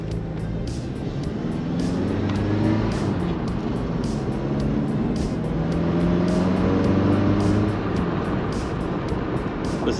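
A Pontiac Fiero drives on the road after bushing and valve cover gasket repairs, heard from inside as a steady engine drone with road and wind noise throughout and a regular light ticking.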